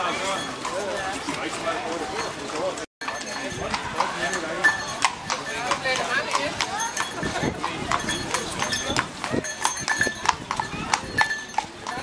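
Horses' hooves clip-clop on hard ground at a Viking event, a steady run of crisp near-to-mid-distance knocks under an ongoing voice and crowd bustle.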